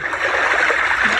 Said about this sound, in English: That's like ocean, I think.